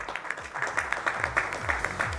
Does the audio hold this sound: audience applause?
yes